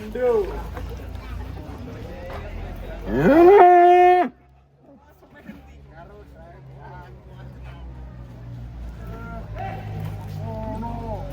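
A large cow lets out a loud, drawn-out moo close by, amid chatter and background crowd noise at a cattle sale.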